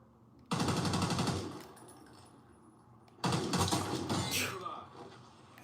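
Video game shooter gunfire in two loud sustained bursts of rapid automatic fire, separated by a quieter gap with faint background sound.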